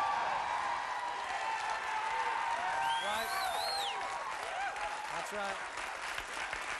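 A studio audience breaks into sustained applause with some whoops and cheers, a steady crowd wash that carries under a brief spoken exchange.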